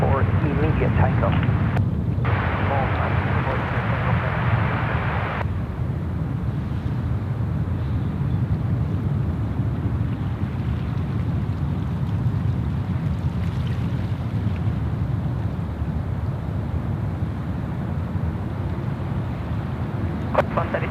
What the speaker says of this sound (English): Runway 34 left, cleared for immediate takeoff